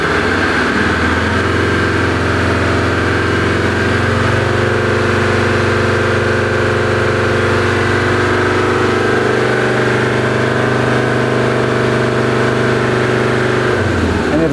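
A Land Rover Defender TD5 diesel engine held at raised revs, a steady loud drone with a small step up in pitch partway through and a brief drop near the end.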